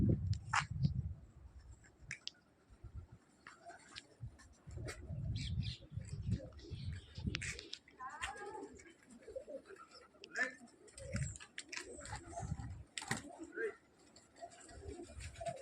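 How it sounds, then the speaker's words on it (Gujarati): Pigeons settling at dusk on a dam give soft, repeated low coos and rustles at close-to-middle distance, mixed with intermittent chirps and other faint bird calls. "કેટલો સરસ અવાજ ઘૂ ઘૂ ઘૂનો અવાજ આવે છે"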